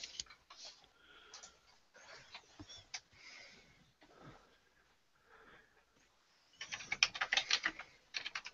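Light, scattered clicks of typing on a computer keyboard during a live drawing session, sparse and quiet at first, then a brisk burst of rapid keystrokes near the end.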